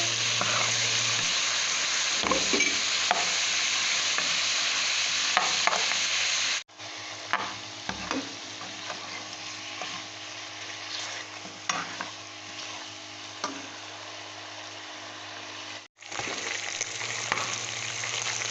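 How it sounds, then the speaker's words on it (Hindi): Mutton frying on a medium flame in a pan, a steady, bright sizzle with occasional stirring scrapes, broken by two abrupt cuts where the sound drops out and resumes. "मीडियम फ्लेम पर हम इसको भूनेंगे और फ्राई करेंगे।"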